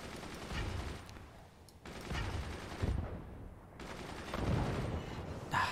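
Outgoing machine gun fire in the construction strategy game Forts, a dense, continuous rattling barrage in several sustained bursts with brief gaps, loud and close throughout.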